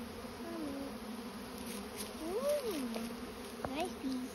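A swarm of bees moving into a bait hive keeps up a constant close buzzing drone, with a few brief rising and falling tones passing over it.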